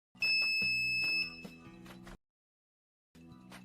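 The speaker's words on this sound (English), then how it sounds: "when the button is pressed, the LED lights up and a single monotone sound is heard" Active buzzer wired to an Arduino with a button and LED sounds one steady monotone beep, followed by a pause and then a quieter stretch, close and clear.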